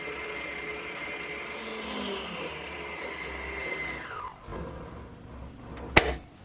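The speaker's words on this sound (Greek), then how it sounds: "Θα χτυπήσουμε το βούτυρο ώσπου να ασπρίσει καλά." Electric mixer beating softened room-temperature butter until pale and fluffy, a continuous moderate motor whir that drops in pitch and stops, followed by a sharp clack near the end.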